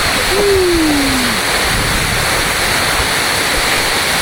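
A waterfall in Quezon roars as a steady, dense wash of rushing water. A short rising-then-falling whistle-like tone cuts through early on.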